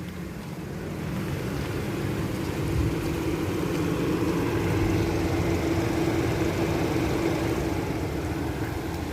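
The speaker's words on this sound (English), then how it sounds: "let's hear the engine sound from the exterior." A small 3-cylinder turbocharged car engine, a 2022 Proton X70, idles steadily with a low, even hum and a faint rumble, heard from outside at close range with no other sounds.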